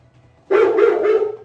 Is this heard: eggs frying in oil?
no